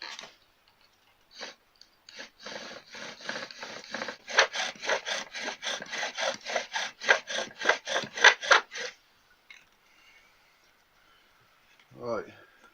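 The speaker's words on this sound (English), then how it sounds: "I've created a divot there with my knife." A knife carves a wooden egg cup, making a run of rhythmic scraping strokes on the wood that grow faster and louder in the middle, then stop, leaving brief quiet scrapes and a short sound near the end.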